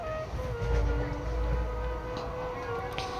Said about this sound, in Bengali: তো ট্রেনে এইভাবে আমি আর শ্রিয়া টাইম পাস করছি শুয়ে শুয়ে